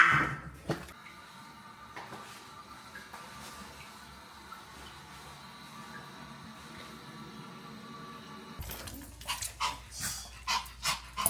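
A dog pants steadily and softly at close range in an indoor room during a pet-friendly trip in Jeonju. Louder clattering and handling noises follow near the end, with no speech.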